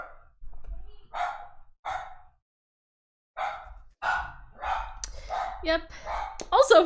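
A dog barks a few short, sharp times, triggered by a stream chat command during a Minecraft roleplay stream, with a person talking and sighing around the barks.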